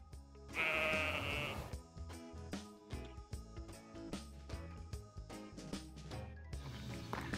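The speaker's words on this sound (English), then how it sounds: "spring lambs are about" Sheep and spring lambs bleat in a sunny regional park, one loud close bleat early on followed by scattered overlapping calls from the flock at varying distances, with faint outdoor background throughout.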